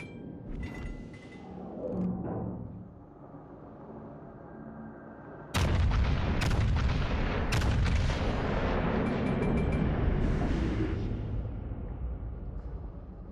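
Heavy naval gun salvos from warships in the game World of Warships: Legends, a series of loud booming blasts that open with a sharp crack and then roll into a sustained, rumbling barrage, alone with no talk.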